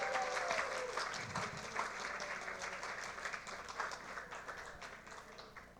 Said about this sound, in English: Give Wayne a quick round of applause.